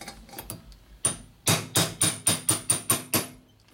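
Light, steady hammer blows on a tool seating a valve collar into the cylinder head of a 1977 Sportster Ironhead 1000cc motorcycle engine; a few softer knocks, then eight crisp metallic strikes in a quick, even rhythm, close by and without speech.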